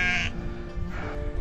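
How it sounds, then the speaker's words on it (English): Mountain goats grazing at a Himalayan trekking route in Nepal during the monsoon give a couple of short, close bleats over a low rumbling background. "Here are the sips, the mountain goats."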